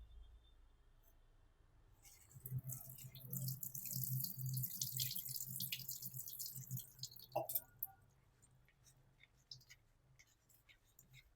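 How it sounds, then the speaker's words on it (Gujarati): Flattened rice (poha) being washed in water for a Gujarati snack: a few seconds of splashing, sloshing and dripping, close by and moderate in level, then a faint trailing drip in a quiet kitchen. "હવે એને આપણે બરાબર ધોઈ લેશું."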